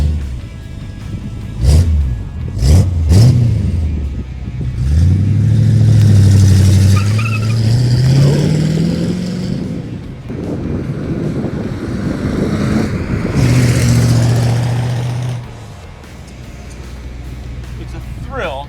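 A 1967 Ford F100 pickup with a 300 straight-six cranks and starts, then revs and pulls away, its engine rising and falling in pitch as it drives off, with people talking over it.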